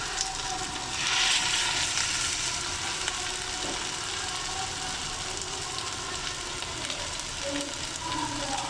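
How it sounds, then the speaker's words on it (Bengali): Vegetable pitha frying in oil in a wok, a steady broad sizzle that holds evenly throughout, moderately quiet and without talk. "আমি এখন এগুলো ভেজে নেব। আমি এখানে একটা কড়াই দিয়ে দিয়েছি আর তেল দিয়ে দিয়েছি।"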